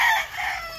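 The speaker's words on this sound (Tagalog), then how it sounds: "Daming manok." Chickens with a rooster crowing at a rural Philippine home, a single drawn-out crow heard close and fairly loud through the short moment.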